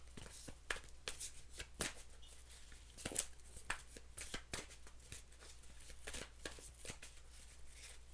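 A deck of tarot cards is shuffled by hand in quick, crisp riffles and slides, repeated steadily at close range in a quiet room.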